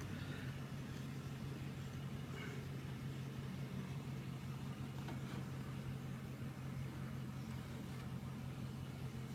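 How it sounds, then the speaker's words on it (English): A truck engine idles at a low, steady, even rumble throughout, quiet and unbroken, with no voices. "Start up the truck."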